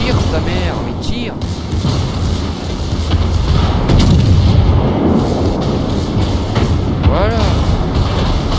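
Naval guns from World of Warships, on a British cruiser, fire in heavy repeated booms over a continuous engine and sea rumble, with a voice talking over the battle.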